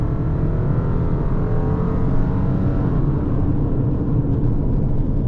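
A lifted 2021 Subaru Forester pulls away from a dead stop, its engine a steady, loud drone with rising harmonic tones as it accelerates, heard from inside the cabin.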